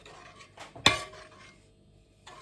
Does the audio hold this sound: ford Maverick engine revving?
no